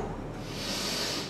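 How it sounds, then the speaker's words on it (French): A steady breathy inhale during a leg extension exercise, heard as a soft continuous hiss that swells slightly toward the end, close and moderately quiet, with no talking. "J'inspire."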